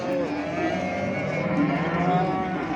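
A cow moos in one long, drawn-out low call at the Çorum livestock market, loud and close, with faint crowd murmur underneath.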